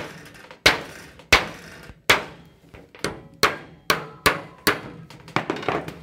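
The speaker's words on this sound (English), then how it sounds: "Your hammer and screwdriver are for getting you the start point for your snips. Just bang a hole." A hammer drives a screwdriver into sheet metal ductwork again and again, about ten sharp ringing blows at a steady pace, each decaying quickly, with no talking.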